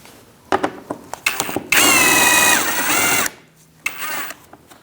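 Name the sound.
Removing a Mini Cooper bumper bracket bolt with an 8mm socket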